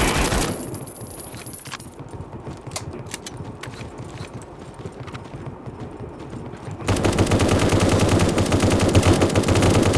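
Rapid gunfire in the video game A.W.O.L., a dense stream of sharp shots that jumps to a louder, sustained burst in the final seconds.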